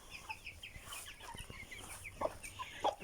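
Small chicks peep in quick high chirps near a rooster, with soft clucking underneath, close by and fairly quiet, no voices.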